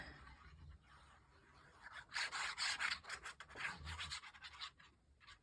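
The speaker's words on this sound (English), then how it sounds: "I can fold it in half. Like so, and glue it up to give it some extra strength." Quiet, close rubbing and scraping comes from folding and gluing a strip of paper for a craft tag. It is a soft, irregular run of dry swishes and crinkles that grows busier midway, with no voices.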